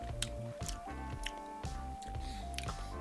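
Close, wet chewing of instant Mama bean thread glass noodles, squishy bites repeating every half second or so over a steady background tone, without speech.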